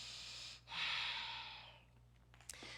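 During a yoga core workout, a single long exhaled breath rushes out close to the microphone and fades, followed by quiet softer breathing.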